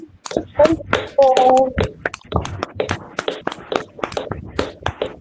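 Group of women at an online Hindi-speaking church fellowship prayer service clapping loudly in welcome, sharp uneven claps running throughout, mixed with overlapping voices talking.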